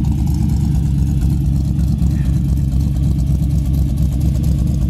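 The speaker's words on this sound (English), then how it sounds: "Motor sounds great. It's got a little cam to it." A 1969 Chevy Nova V8 with a mild cam idles steadily nearby, a deep, loud rumble with a slightly lumpy, rhythmic throb and no other sounds over it.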